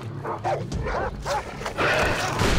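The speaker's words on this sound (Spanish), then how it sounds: "Sí, este perro de mierda." A dog in the video game Far Cry 3 lets out a quick run of loud, close barks and yips, some shading into a whine.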